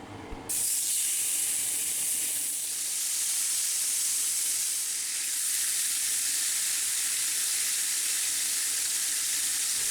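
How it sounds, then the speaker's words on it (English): Pork chops sizzle in corn oil in a hot cast iron pan, a loud, steady hiss and crackle that starts abruptly as the meat goes in and holds evenly throughout. "We add a little bit of corn oil to our hot cast iron pan, and in go the chops."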